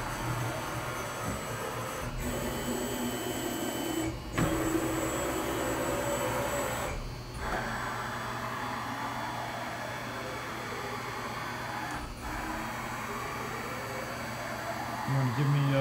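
A Milltronics VM-25 CNC mill whirs steadily, with a low motor drone and rising and falling whines as the ball screws move the X and Y axes, a few brief pauses breaking the continuous hum.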